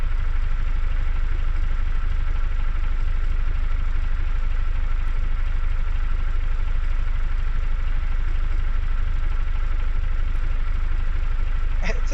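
A 1970s Soviet-style car in the Automation game idles with a rough, tractor-like engine note, a loud, constant low drone that holds steady throughout without revving.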